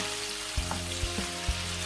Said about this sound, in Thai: นำเต้าหู้นะคะที่หั่นเป็นชิ้นเล็ก ๆค่ะ นำลงไปทอดนะคะ